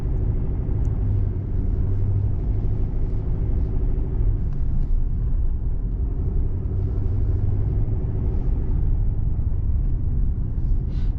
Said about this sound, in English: Try not to drive right over the rocks.